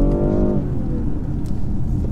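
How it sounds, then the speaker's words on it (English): A 2019 BMW X5 40i engine pulls strongly under acceleration on a narrow B road, a steady close engine drone with rising harmonic tones at first, then a dense rumble with road noise continuing throughout. "Lovely pickup from this engine, as always."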